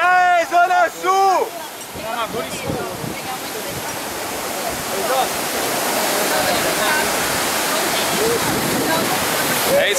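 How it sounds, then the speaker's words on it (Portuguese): Cachoeira das Torres waterfall, a broad continuous rush of falling water that swells and grows louder, with voices and calls over it near the start. "Estão na Cachoeira das Torres."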